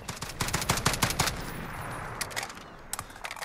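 An FAL OSW (DSA 58 OSW) automatic rifle in Call of Duty Modern Warfare fires one sustained full-auto burst of rapid, loud, evenly spaced shots, then a few scattered follow-up rounds.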